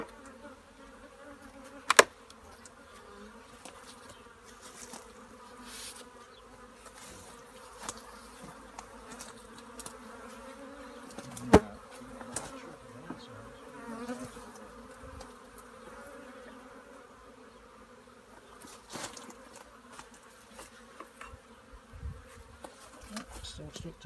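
Honeybees hum steadily in a dense, continuous drone, with a few louder clicks and knocks breaking through now and then.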